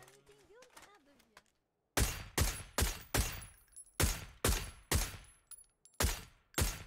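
Nine or ten loud, close gunshots from a PUBG ranked squads match crack in a steady, evenly spaced burst after a short stretch of quiet talk at the start.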